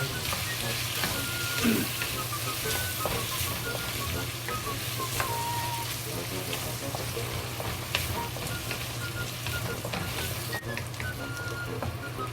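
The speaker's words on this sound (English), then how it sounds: "Now we add the egg to it and fry" Egg fries with softened cucumber in a pan, a continuous crackling sizzle with occasional stirring and spattering, steady throughout, with a brief spoken word near the start.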